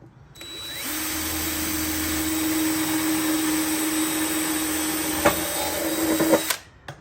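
A power drill whines continuously while boring into a metal downpipe, a harsh steady grind that holds for several seconds before cutting off abruptly.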